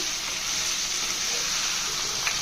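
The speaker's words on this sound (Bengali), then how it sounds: "চিকেনের মাংসগুলা তেলগুলাকে দিয়ে ভালো করে নেড়ে চেড়ে মাংসটা কষিয়ে নেব" Chicken pieces fry in hot oil with onion, ginger-garlic paste and whole spices, a loud continuous hiss and crackle with a faint stir near the end, close up and without voices.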